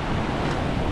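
Surf washes against a rocky shore at Bay of Islands at low tide, heard as a steady low roar heavily mixed with wind buffeting the microphone, with no talking.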